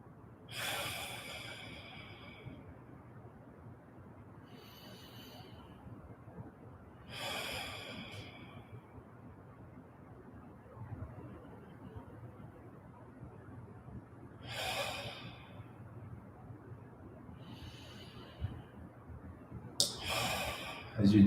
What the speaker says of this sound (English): try to make sure you're breathing in through your nose and out through your mouth